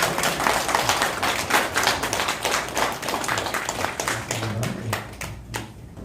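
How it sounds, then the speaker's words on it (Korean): A church congregation claps during a Sunday service, many hands producing quick, sharp, fairly rhythmic claps that fade slightly toward the end. "우리 건축을 잘 부탁한다고 우리 박수 한번 해주세요"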